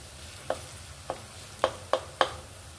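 Butter melts and fries in a pan beside pav bhaji vegetables, a soft, steady sizzle broken by five distinct stirring scrapes or taps over a few seconds, with no talking.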